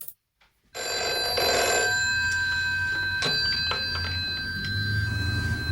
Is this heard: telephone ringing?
yes